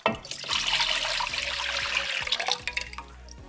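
Water streams from a tap into a cooking pot for Bahamian-style macaroni, a steady, fairly loud splashing gush with bubbling and irregular drips, continuous and close with no talking.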